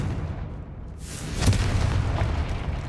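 A Confringo spell in Hogwarts Legacy lands as a single deep boom partway through, followed by a rumbling blast tail over the game's background sound.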